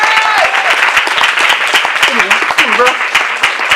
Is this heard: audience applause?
yes